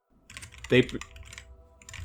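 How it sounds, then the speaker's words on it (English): Computer keyboard typing, a quick run of clicky keystrokes close by, with one sharper louder tap partway through. "I hear you typing, and you need to stop"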